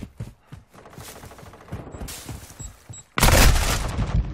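Rapid bursts of gunfire in a military shooter video game, a stuttering run of automatic shots followed by a sudden louder, denser barrage near the end, with no speech.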